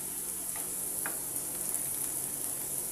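Chopped beans and ridge gourd fry in a pan as they are stirred, a soft steady sizzle with a few faint clicks of the utensil, quiet and continuous.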